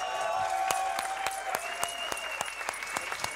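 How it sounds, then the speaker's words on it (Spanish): A stand-up comedy café-concert audience applauds in a soft, somewhat distant burst of clapping, individual claps audible as the ovation thins out, with a faint sustained tone beneath. "Fuerte el aplauso y su nombre es Francisca del Solar."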